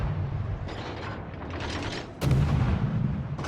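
Destroyer Kitakaze's guns fire in the naval battle game World of Warships: a steady rolling barrage of booming shots, then a heavier, louder salvo that sustains to the end.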